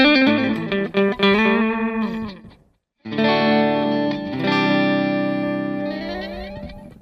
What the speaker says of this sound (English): Oh, that echo platter